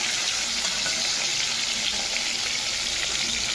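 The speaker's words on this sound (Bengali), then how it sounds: "উল্টে পাল্টে লাল লাল করে ভেজে নেব" Continuous loud sizzling and crackling of fish frying in hot oil in a pan, steady and close throughout with no voices.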